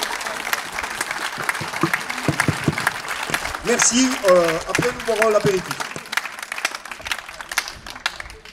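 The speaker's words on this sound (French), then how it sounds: "en les applaudissant une bonne minute" Audience at a festive association gathering applauding, a steady wash of many hands clapping at moderate distance, continuing under someone speaking briefly.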